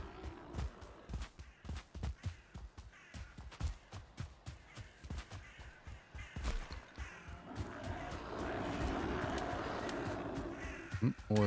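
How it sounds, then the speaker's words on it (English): Repeated crow caws in the video game Valheim sound in a quick irregular series, then a steady wash of ambient noise takes over near the end. "I hear crows as well."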